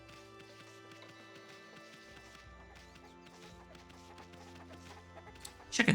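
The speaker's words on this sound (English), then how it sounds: "Chickens." Chickens cluck in a rural village in the video game Okami HD, repeated soft clucks over steady game music, ending in a brief louder burst.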